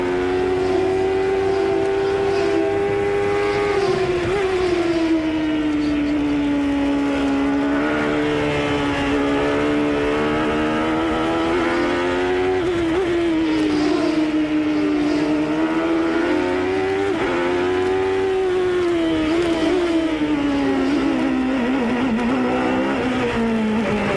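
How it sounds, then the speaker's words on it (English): A Chevrolet IndyCar engine at the 1993 CART Detroit street race sings from onboard, a loud sustained wail that rises and falls repeatedly as the driver short-shifts through the gears, close and alone without talk. "We've got the onboard telemetry from Chevrolet's engine here on Little Al's car."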